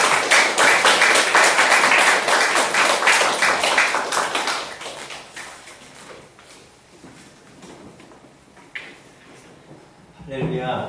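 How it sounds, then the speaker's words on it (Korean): A church congregation applauds warmly as a pastor comes forward, loud dense clapping at first that gradually thins and fades, followed by a few isolated sounds and a brief swell near the end. "그럼 이 유현성 목사님 나오실 때 뜨거운 박수로 환영하겠습니다."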